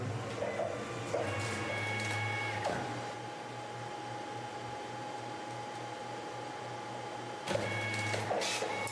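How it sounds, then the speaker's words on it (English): A label printer works steadily as it prints out a product label, giving a continuous mechanical whir with rhythmic feed clicks and a brief pause before it starts up again. There is no talking. "that would prompt the printer to print that product out"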